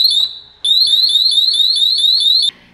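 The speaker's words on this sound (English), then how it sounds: "now if someone tries to break in, there you go, the alarm goes off" A Schlage Camelot door lock alarm shrills in loud, rapid repeated electronic chirps, stopping briefly and then sounding again in a sustained burst before cutting off.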